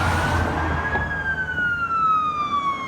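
An emergency vehicle siren sweeps past, a loud wailing tone that slides gradually downward in pitch as it passes, with steady traffic rumble underneath.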